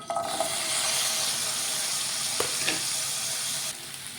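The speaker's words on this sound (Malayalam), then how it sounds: "ഈ പച്ച തക്കാളിക്ക് ഒന്ന് വഴറ്റിയെടുക്കാനാണ്" Green tomatoes sautéing in a little coconut oil in a pan on the stove, giving a continuous close hiss of frying with a couple of brief stirring clicks before the sizzle drops off near the end.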